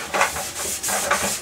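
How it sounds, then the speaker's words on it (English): A sponge scrubbing the plastic cover of a vintage Philips SON street light gives close, soft rubbing swipes in a few repeated strokes with no talk. "I don't want to use anything, you know, more abrasive than this. Sponge, because I don't want to scratch the plastic up."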